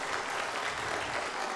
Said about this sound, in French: on va encore applaudir très fort, s'il vous plaît, Maggie Blanchard